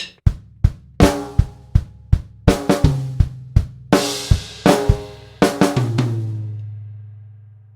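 Drum kit playing two bars of a grade 3 exam piece, steady strikes of kick, snare and cymbals in even rhythm, a crash ringing out and decaying at the end; close and loud, no talk.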